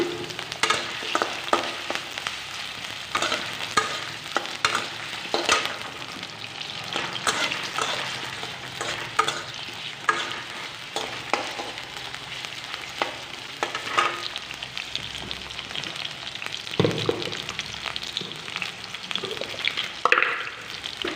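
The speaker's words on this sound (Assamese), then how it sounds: "ইয়াতে মই আলু দি দিম। আলুখিনি প্ৰথমতে ফ্ৰাই কৰি ল'ম ধুনীয়াকৈ।" Potatoes frying in hot refined oil make a constant close sizzle, punctuated throughout by frequent clattering stirs and scrapes of a spatula against the pan over some twenty seconds, with no one speaking.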